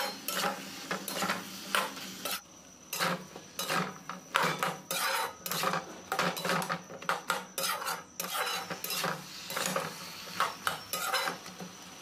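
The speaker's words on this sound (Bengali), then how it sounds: "ডালের সঙ্গে এইভাবে ভালোভাবে মিক্স করতে হবে।" A spoon scrapes and clatters inside a cooking pot as bottle gourd pieces are stirred into masoor lentil dal, an irregular run of close metallic scrapes and knocks with short pauses, no talk.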